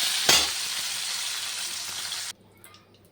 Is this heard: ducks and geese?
no